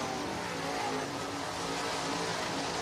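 Race cars on the final lap at Northwest Florida Speedway in Baker, Florida produce a continuous, dense engine roar from a distance, steady and unbroken with no talk.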